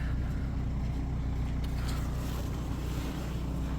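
A used crossover car at a Ukrainian car market in January, idling just after starting, with a steady low engine rumble and hum that holds evenly for the whole stretch.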